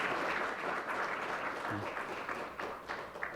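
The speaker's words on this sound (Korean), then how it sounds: "큰 박수 부탁드립니다." Audience applause at a symposium on carbon neutrality and the constitution, a steady wash of many hands clapping at a moderate distance, fairly soft, with a brief low voice murmur partway through.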